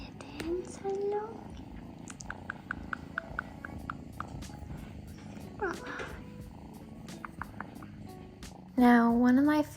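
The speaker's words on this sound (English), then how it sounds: "Beautiful kittens" Kittens on a coastal farm in the UK purr close and steadily, with a couple of short, clear meows rising over the low rumble near the start and again at the end.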